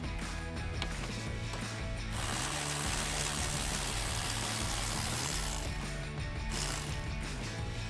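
Ratchet wrench loosening the top roof bolts on a Jeep Wrangler JL 4-door, close and loud with rapid continuous clicking that shifts in pace between bursts, with no talk.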